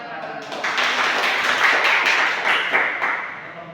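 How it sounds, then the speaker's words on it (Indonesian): Classroom clapping after a group presentation in a microteaching session, a dense patter of hands lasting several seconds at steady strength before thinning out near the end. "Ayo beri tepuk tangan."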